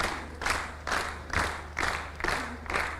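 Students at a quiz competition get applause from an audience, which rises and falls in about six even, rhythmic waves of clapping over a steady low hum, moderately loud and with no talk over it.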